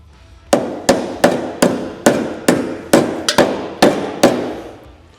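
Loud, sharp metallic hammer blows strike a car body panel about nine times at a steady, slightly uneven pace, each ringing briefly.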